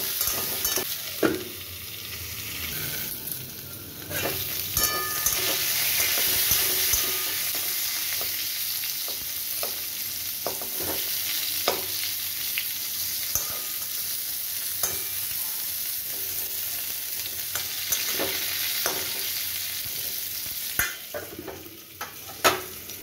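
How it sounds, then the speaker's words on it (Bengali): Pointed gourd (potol) seasoned with turmeric and salt frying in a pan, a steady close sizzle with occasional stirring scrapes and light clinks of utensil against pan, no voices. "এবার আমি পটলগুলোকে চাপা দিয়ে দিয়ে খুব ভালো করে ভেজে নেব।"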